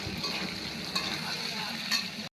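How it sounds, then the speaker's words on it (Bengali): Potatoes frying in oil tempered with cumin, bay leaf and dried chilli give a steady, close hiss and sizzle with a couple of soft clinks. The sound stops abruptly at the end, with no talking. "সাদা জিরে, তেজপাতা, শুকনো লঙ্কা ফোড়ন দিয়ে আলুগুলোকে ভেজে নিচ্ছি"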